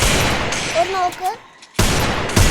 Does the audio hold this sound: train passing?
no